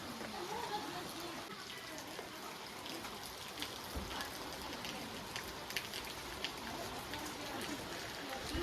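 Steady rain falls on a hard surface, a continuous close patter with scattered louder drops, with no pause throughout.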